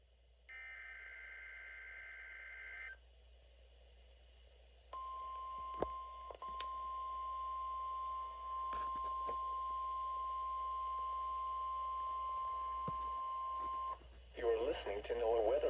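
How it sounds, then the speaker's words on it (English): NOAA Weather Radio alarm test from Pittsburgh: a steady two-tone burst, then after a pause a long continuous single tone held for about nine seconds, ending abruptly into a noisy broadcast burst. "The preceding tone signals were a test of the alarm device of this weather radio station"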